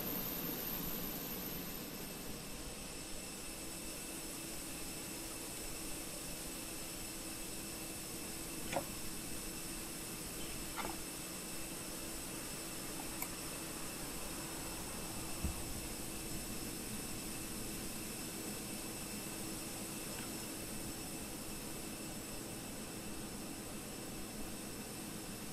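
British Airways Airbus A320 jet engine spooling up during startup at the gate before pushback, a steady broadband roar with a sustained whine and faint intermittent clicks, continuous and fairly loud throughout.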